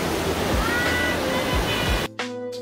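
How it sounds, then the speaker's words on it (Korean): A strong, rain-swollen valley stream at Baegun Valley in Pocheon, Korea, roars loudly beneath a suspension bridge as a close, dense wash of water, then cuts off abruptly after about two seconds to a brief low hum. "엄청나게 물이 많이 흐르고 있습니다."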